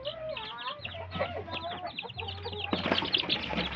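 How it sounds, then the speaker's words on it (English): Hens and chicks clucking and cheeping inside a chicken coop on a farm, a busy overlapping chorus close by, with a low steady hum beneath and wing flutters toward the end. "Let's take a look around the chicken coop."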